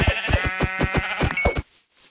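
A Minecraft sheep bleats in one loud, wavering, close call that breaks off abruptly, leaving near silence behind it.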